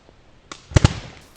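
Two sharp, loud firecracker bangs in quick succession, close by, following a softer pop, with faint crackling afterward.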